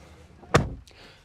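A car door shuts with a single solid, well-damped thunk at an auto show, the interior of a Ferrari, followed by a faint short click; no talking over it.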